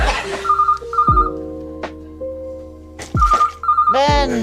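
Telephone in a British sitcom rings repeatedly with a warbling electronic double trill, loud and near, interleaved with people talking and a laugh track.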